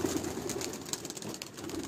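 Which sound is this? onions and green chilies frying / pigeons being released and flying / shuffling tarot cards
pigeons being released and flying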